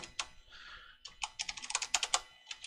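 Computer keyboard keys being pressed, a quick run of sharp close clicks in uneven bursts with a short pause partway, alone with no voices.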